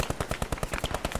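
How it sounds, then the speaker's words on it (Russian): Rapid machine-gun fire in the World War II shooter Post Scriptum, about a dozen sharp, evenly spaced shots in a steady fast rhythm, loud and close, with no talk. "Пулемет кроет, не подходите."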